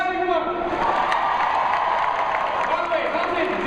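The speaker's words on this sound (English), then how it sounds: "Clap if you want the boring one." A keynote audience claps and cheers in a large room, a continuous even roar of hands with scattered whoops, fairly loud and sustained from start to finish.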